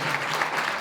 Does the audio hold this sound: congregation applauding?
yes